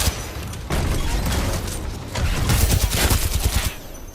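Game gunfire sounds as a dense, loud fusillade of rapid shots and booming bursts that surge and fade in close succession.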